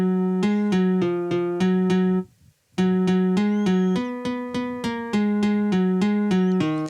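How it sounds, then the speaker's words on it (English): A MIDI nylon string guitar plays the melody of a song in straight, evenly spaced notes with a mechanical, synthetic tone, loud and clear, broken once by a short pause, with no voices. "the melody sounds dumb when it's on a MIDI nylon string guitar"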